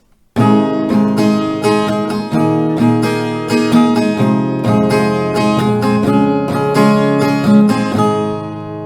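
Steady rhythmic guitar strumming moves through a chord progression, each chord struck repeatedly with bright, full, close-up ringing strings.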